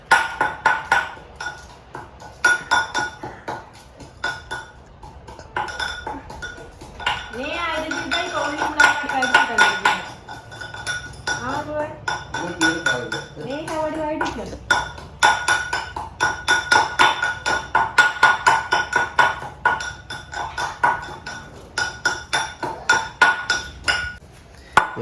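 Ingredients for a home-made fish curry pounded by hand in a steady, repeated thudding rhythm with metallic clinks, close by, while people talk over it through the middle stretch.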